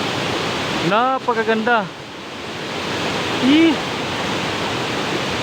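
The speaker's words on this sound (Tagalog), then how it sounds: "Ito po yung falls po nila" Waterfall at Tagbibinta in Maragusan, a steady broadband rush of falling water filling the whole clip at close range, with someone speaking briefly over it.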